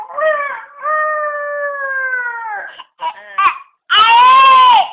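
A voice imitates a rooster's crow: a long, drawn-out wavering call followed by short broken syllables and another loud, strained crow.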